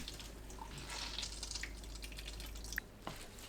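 Blanched kale being rinsed in cold water in a sink, with a steady wash of running water and scattered drips close by, plus a couple of sharper splashes near the end.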